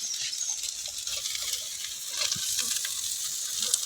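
Chopped vegetables with carrot, beet and pumpkin peel frying in a pan as they are stirred, giving a steady bright sizzle with soft scraping and patter throughout, close and fairly loud.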